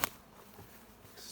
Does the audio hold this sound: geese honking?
no